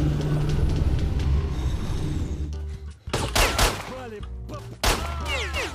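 Bursts of rapid video game gunfire rattle at the start, then break off into scattered sharp shots and crashes amid other game effects, with brief voice-like sounds over the top.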